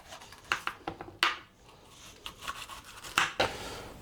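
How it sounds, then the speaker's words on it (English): A knife cuts peppers and a red onion into fairly big cubes on a board, a close series of sharp irregular chops and slicing scrapes with short pauses between strokes, no voices. "All we need to do now is cut them into cubes."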